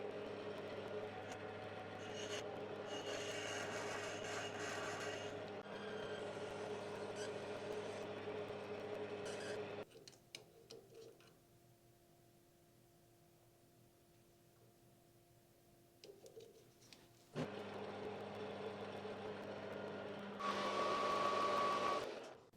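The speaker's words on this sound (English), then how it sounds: "I'm going to start with a 13 mil drill" Lathe spinning while a 13 mm drill bores into brass for a tailstock handle, a steady loud machine hum with whining tones, dropping to a quiet lull midway before the motor runs up again, rising sharply near the end.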